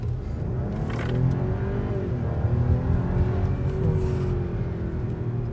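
A 2012 Audi A7 accelerates down a hill, its engine note rising and shifting in pitch as revs climb and change, heard from inside the car as a steady, moderately loud drone.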